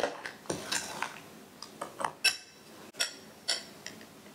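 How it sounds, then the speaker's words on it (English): Egg yolks being stirred in a bowl until creamy, giving a string of light, sharp clicks and taps of a utensil against the bowl, close by and in irregular rhythm with quiet gaps between strokes. "And we're going to stir that up until it's nice and creamy."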